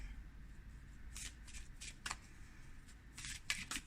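Oracle cards shuffled by hand during a spirit card reading, a steady papery riffling and slapping with several sharper bursts, quiet and close, with no talk over it.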